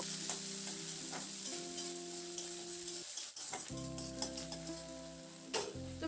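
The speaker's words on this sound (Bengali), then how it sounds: "এবার পেঁয়াজটা দিয়ে মিনিট দুয়েক মতো একটু নাড়াচাড়া করে ভেজে নেব" Chopped medium onions frying with cumin in hot oil for a cauliflower dish, stirred now and then: a continuous close sizzle with light utensil clicks over a steady droning tone in the background.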